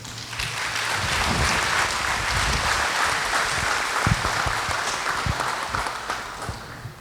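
An audience claps through a solemn honors session in Jacareí's legislative chamber. The dense, steady applause swells over the first seconds and then gradually thins out.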